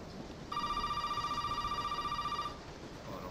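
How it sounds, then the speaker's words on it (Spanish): A telephone rings in the Resident Evil 7 video game, one steady electronic bell trill lasting about two seconds over quiet room ambience, clear and close, with no speech. "Están llamando al teléfono, macho."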